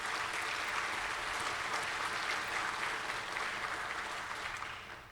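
An audience at a NASA Glenn evening event at a museum applauding, a dense, even wash of clapping that holds steady and then tapers off at the end.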